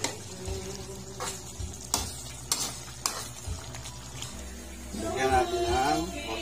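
Fresh chilies, both labuyo and green, sizzle in a pan of octopus adobo simmering in coconut milk, with scraping and clattering as the pan is shaken and a louder bubbling fry toward the end; a person talks now and then.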